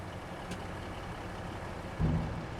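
Idling truck engine in Farming Simulator 25 on a Mississippi farm map, a steady low rumble throughout with a brief louder surge near the end.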